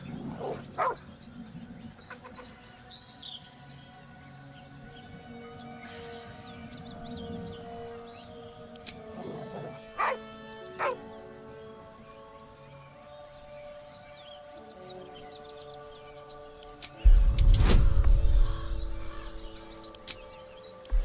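Dog in Baldur's Gate III barks and yips in scattered bursts with whimpers, set against a steady ambient game soundscape, ending in a loud burst of noise near the close.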